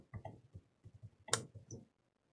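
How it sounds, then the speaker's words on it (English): Someone types a password on a computer keyboard. A quick run of soft, close key clicks lasts under two seconds, with one slightly sharper tap near the end, in an otherwise quiet room. "then I'll type in the password"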